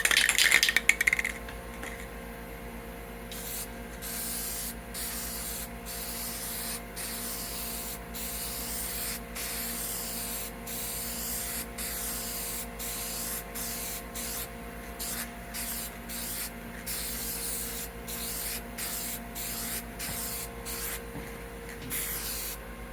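Chrome spray paint hissing steadily from an aerosol can in a thin coat, a continuous close spray with brief gaps and a short rattle near the start.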